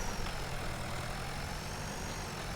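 A tractor engine in a farming video game runs at a steady idle, a continuous low rumbling drone with no voices over it.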